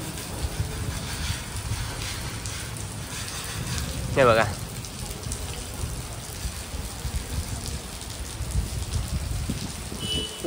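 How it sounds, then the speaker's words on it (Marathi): Steady heavy rain falls outdoors near a maize field, a continuous dense patter under a man's brief spoken words, with a short chirping or squeaking sound in the middle. "पाऊस चालूच आहे."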